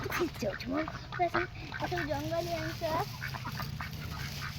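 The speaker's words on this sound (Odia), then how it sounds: "ଏଇଟା ହେଲା ଜଙ୍ଗଲୀ ଅଂଶ, କଳା କଳା ଧଳା" Wild black-and-white ducks quack repeatedly nearby in a few honking bursts, with a person talking over them throughout.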